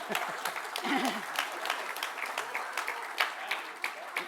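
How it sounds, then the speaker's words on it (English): Summit audience at a modular building conference applauding, with dense moderate clapping throughout and a brief voice near the start. "Now you applaud"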